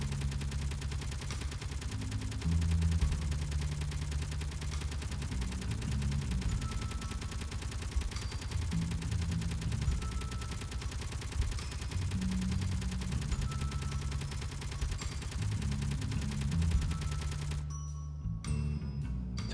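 Gun rounds hammering armor blocks in the video game Space Engineers, a steady rapid stream of automatic fire with low thudding impacts, continuous and moderately loud, cutting off abruptly near the end.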